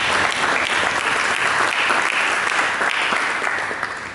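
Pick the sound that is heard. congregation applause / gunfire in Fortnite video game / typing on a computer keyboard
congregation applause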